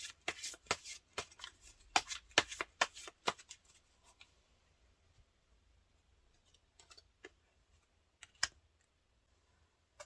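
Tarot cards riffle and snap in a quick run of crisp shuffles, then a quieter pause with a few soft slides and taps as a single card is pulled, close and intimate with no talking.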